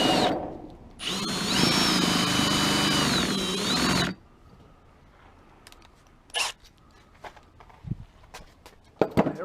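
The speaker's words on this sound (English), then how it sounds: "And we want to drill these." A power drill whirs loudly for about three seconds while working on a 1927 Ford Model T coupe grille, then stops, leaving quiet handling noises, shuffling and a few sharp knocks.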